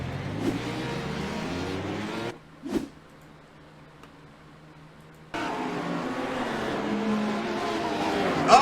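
A GT3 race car on the Detroit circuit brakes hard at the end of a straightaway. The loud engine roar cuts off suddenly, followed by a quiet gap with a brief thump, before the engine noise returns strongly.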